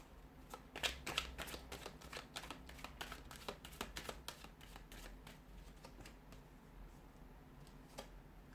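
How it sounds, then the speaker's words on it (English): A deck of tarot cards is shuffled up close, giving a quiet run of crisp riffling flicks and taps that is busiest early and thins toward the end. "So we'll give the cards a shuffle"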